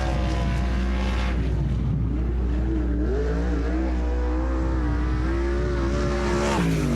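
A sprint car on a qualifying lap at Sunset Speedway, its engine droning loudly and steadily throughout with rising and falling pitch as it circles the track, no talk over it.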